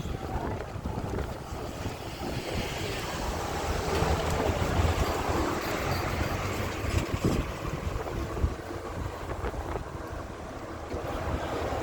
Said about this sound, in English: Sorry if it's breezy in this video,